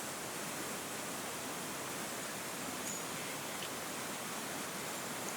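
A small creek runs through a cool gully in volcanic bushland near Castlemaine in the Victorian gold fields, giving a steady, even wash of running water with no breaks from start to finish.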